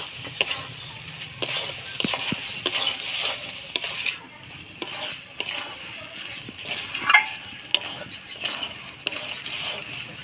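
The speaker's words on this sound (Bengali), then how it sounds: "দেবো পরিমাণ মতো হলুদ, স্বাদ মতো লবণ। ভালো করে নাড়াচাড়া করে নিব।" A spoon stirs turmeric and salt through a cooking pan, producing repeated scraping and clinking strokes over a soft sizzle for several seconds, with no voices.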